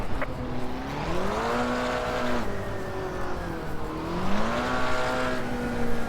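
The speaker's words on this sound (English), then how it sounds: "Just doing burnouts." A McLaren GT4 racing car in a sim racing game at Zandvoort spins its tires in burnouts, the engine note climbing and dropping twice in long revving sweeps with a steady squealing whine, loud and continuous with no talking.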